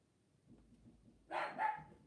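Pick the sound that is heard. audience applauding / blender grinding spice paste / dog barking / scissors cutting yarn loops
dog barking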